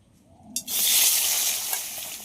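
Bitter gourd dropped into hot mustard oil, a sudden burst then a steady, bright sizzle of frying that stays loud and continuous.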